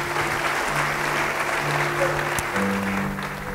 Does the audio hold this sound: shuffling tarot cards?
no